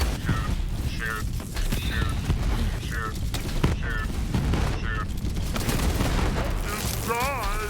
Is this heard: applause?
no